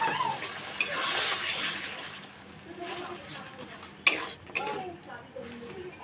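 Water is poured into a pot of pointed gourd and chhana curry, giving a brief splashing rush, followed by quieter cooking sounds and a few metallic utensil clinks.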